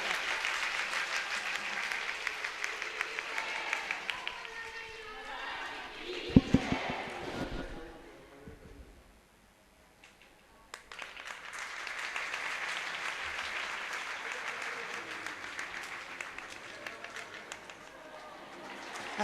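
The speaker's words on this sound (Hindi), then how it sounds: "इसका जोरदार तालियों से स्वागत।" Applause greets a temple devotee at a Balaji temple gathering in Bhati Kalan, Delhi, rising in sustained bursts near the start and swelling again in the second half, with a brief quieter gap between.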